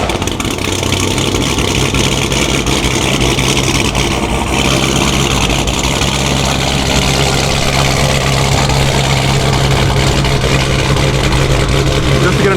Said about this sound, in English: this is going to be the first cold start on the channel of the 426.